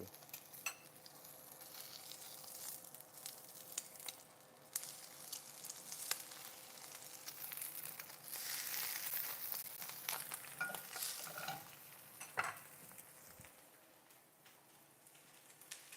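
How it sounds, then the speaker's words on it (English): Eggs fry in a pan with a steady, soft crackling sizzle, with scattered small pops and ticks rising and falling throughout, no voice over it. "eggs are cooking"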